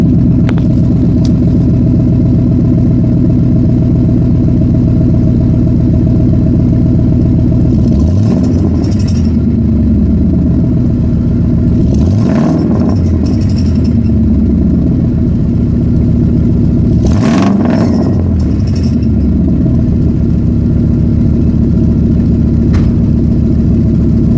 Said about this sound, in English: so that y'all can hear the gloriousness of it